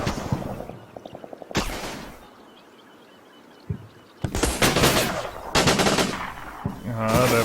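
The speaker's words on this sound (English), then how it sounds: "They have a machine gun in here." Machine gun fire in the World War II strategy game Combat Mission: Battle for Normandy, several separate rattling bursts, some short and distant, others loud and close, with gaps of quieter ambience between.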